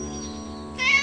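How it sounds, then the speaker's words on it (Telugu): A cartoon cat lets out a single clear meow, close and prominent, rising a little in loudness toward its end. "అలా చూడు, ఒక పిల్లి వచ్చింది"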